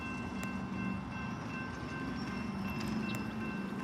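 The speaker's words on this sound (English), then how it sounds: "I don't know where the Amtrak train is." An Amtrak passenger train nears Staples Mill station, heard as a faint, steady low rumble of rail noise with a few light clicks, still distant and quiet.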